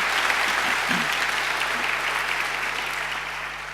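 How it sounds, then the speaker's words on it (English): A graduation ceremony audience applauds alumni volunteers, a broad, steady roar of clapping hands that tapers off slightly toward the end, heard alone without speech. "I think they deserve a great round of applause too."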